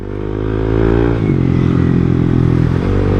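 A Yamaha Aerox SP scooter engine runs close by, loud and steady, with a steady mechanical whine that dips in pitch as the revs drop and then climbs again, and no voices over it.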